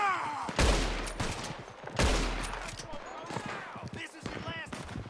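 Gunfire in the Red Dead Redemption 2 video game: two loud booming shots about a second and a half apart, each with a rolling echo, followed by rattling action and no speech.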